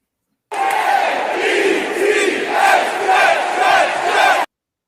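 Cheering crowd at a New York Jets football game, a dense roar of many voices that swells and ebbs steadily for about four seconds, then stops abruptly.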